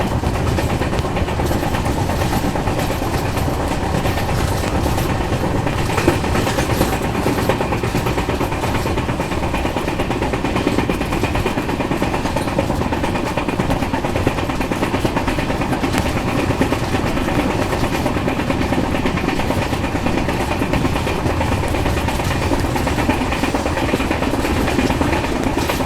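Trivandrum Rajdhani Express 12431 running steadily, a loud continuous rumble and rail roar with faint clickety-clack throughout, heard from on board with no talk.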